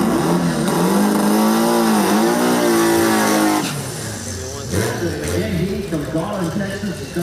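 Air-cooled Volkswagen hot rod race cars at a drag strip, engines revving loudly with rising and falling pitch sweeps, then a rougher pass, while an announcer talks over the roar.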